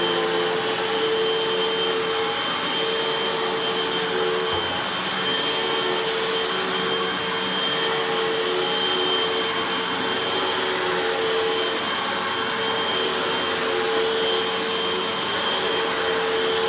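A Hoover WindTunnel 2 Rewind Pet upright vacuum cleaner runs steadily and loudly, a constant motor whine with a broadband airy roar and sustained tonal hum, with no talking.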